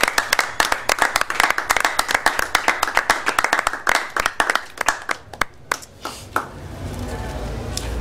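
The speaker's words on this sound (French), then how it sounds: "Est-ce qu'on peut acclamer vraiment le Seigneur?" A church congregation claps fast and steadily, praising the Lord. The sharp, dense hand claps ring out close and loud, then thin out and fade toward the end.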